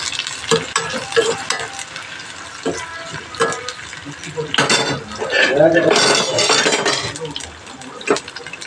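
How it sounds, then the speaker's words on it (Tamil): Shallots stirred in a frying pan for a carrot stir-fry: a metal spoon scrapes and clacks against the pan in irregular strokes over a light sizzle, close and clear, with a swell of frying noise midway. "சின்ன வெங்காயம் போட்டு கொஞ்சம் கிண்டிக்குவோம்"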